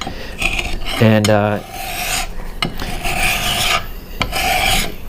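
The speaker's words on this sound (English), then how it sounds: "You can use a file to do this." A metal file rasps back and forth across a screwdriver being refurbished, close and loud in repeated strokes, with one brief spoken word.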